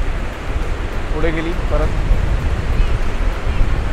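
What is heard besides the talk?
sea waves at high tide on Shrivardhan beach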